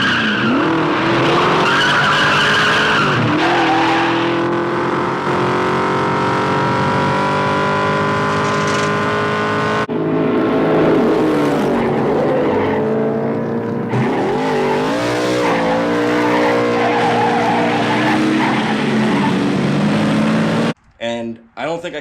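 A red trash Camaro-style race car with foot to the floor, hitting the rev limiter and sliding through corners, long loud tire squeals over a roaring, rising engine, with a few abrupt clunks at the end.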